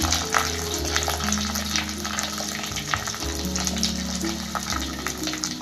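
Chopped onion and shallots sizzle steadily in a pan for Kerala-style tilapia mulakittath, a constant crackling fry over a low kitchen hum, with no one speaking.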